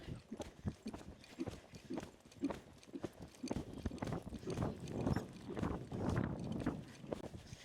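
A barrel-racing horse walks in a Western riding arena, its hooves clip-clopping in a quick, uneven rhythm of soft, fairly close thuds that carries on steadily.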